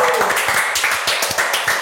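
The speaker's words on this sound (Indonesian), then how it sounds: "Teman-teman semua, tepuk tangan untuk Ridwan Remin" Audience applause for comedian Ridwan Remin, a dense patter of clapping with a voice over it.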